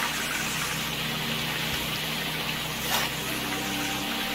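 A water pump runs steadily in the Gold Rush video game, a continuous broadband mechanical whir with a low engine hum, even and unbroken throughout with no one talking.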